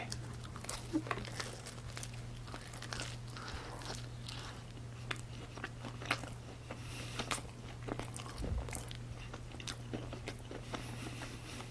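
Quiet crunching bites and chewing, with sharp crackly clicks scattered over a low steady hum.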